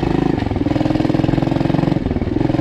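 A Loncin 110/125 single-cylinder motorcycle engine runs steadily on a test ride, a loud, close, rhythmic throbbing putter with a brief dip in pulse near the end, alone without talk.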